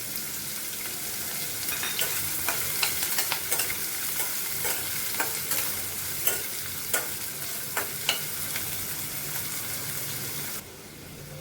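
Finely chopped medium onion fries in a pan after cumin, a steady close sizzle broken by repeated sharp scraping clicks of a spoon stirring, ending abruptly.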